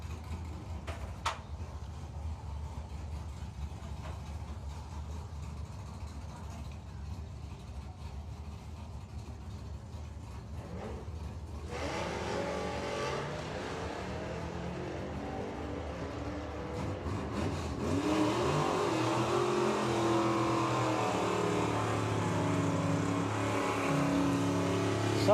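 Ford 100E cars on drag racing runs at Santa Pod: an engine drone that builds into louder, harder revving over about 25 seconds, heard from a moderate distance with steady crowd and track ambience behind it.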